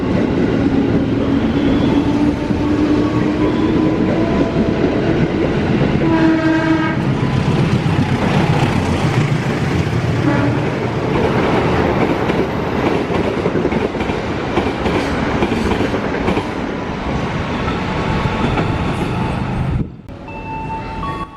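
A long Indonesian passenger train rolls past near a station on the Bandung line, a loud continuous rumble with clattering wheels, a horn sounding partway through, then the noise drops away near the end.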